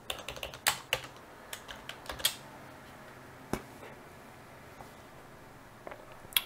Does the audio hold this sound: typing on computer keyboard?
yes